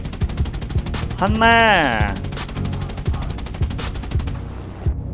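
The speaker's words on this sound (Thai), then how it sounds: "ยิงขู่ไปบ้างผมเองก็มีปืนเหมือนกัน" Machine-gun bursts from an aircraft in War Thunder, a PB4Y-2 bomber, ticking in short repeated volleys across the whole stretch while someone talks over it and an engine drones beneath.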